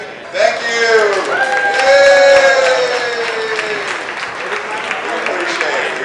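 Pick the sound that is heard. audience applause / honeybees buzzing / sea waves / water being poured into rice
audience applause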